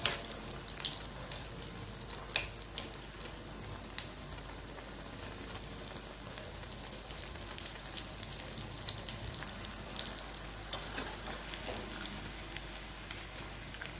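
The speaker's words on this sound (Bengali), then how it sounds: "এবার আমি উল্টে পাল্টে লাল লাল করে ভেজে নেব।" Vegetable chops bubble in hot oil as they are turned and browned, a soft, steady sizzle with scattered pops and crackles and no voices.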